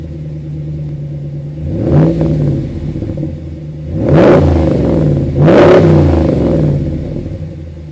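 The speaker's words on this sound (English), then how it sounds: "Just listen to the exhaust note." The deep exhaust of a 2015 RAM 1500 Laramie Limited pickup's Hemi V8, custom exhaust, revs three times, each rise swelling then falling back to a rumbling idle, loud and close with no talking.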